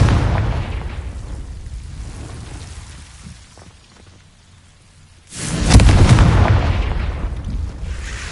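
Confringo fire spell exploding in Hogwarts Legacy, a heavy blast that bursts in suddenly after a quieter lull and rolls on with a loud, rumbling, crackling tail, close and full.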